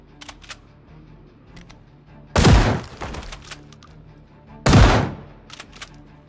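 Two loud, sharp gunshots about two seconds apart, fired at zombies in the survival game Project Zomboid, each with a booming decaying tail over faint clicks and background game sounds.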